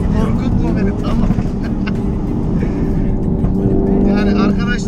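A 2016 Audi TT tuned to stage 2, around 350 bhp, roars loudly and continuously as it accelerates along a straight road, with people talking over the engine noise.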